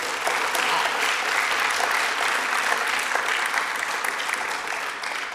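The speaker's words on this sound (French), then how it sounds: "On peut les applaudir bien fort." An audience in a parliamentary hemicycle applauds loudly and steadily for two debaters at a verbal jousting final, a dense, continuous wash of clapping that fades slightly near the end.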